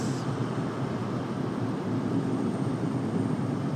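A Sun Country airliner departs Raleigh-Durham airport, heard as a steady, broad jet roar from a distance that holds evenly for a few seconds with no voices.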